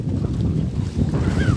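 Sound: wind at sea on a fishing boat

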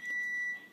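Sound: oven beeping that it is ready for food

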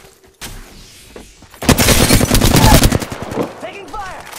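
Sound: gunfire in video game Apex Legends

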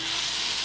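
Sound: tomatoes frying in a pan for chutney

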